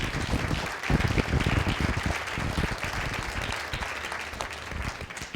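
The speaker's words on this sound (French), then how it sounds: "On l'applaudit." An audience applauds a guest speaker, an astrophysics professor, at a public science evening, with dense, fairly loud clapping from a roomful of people that holds steady throughout.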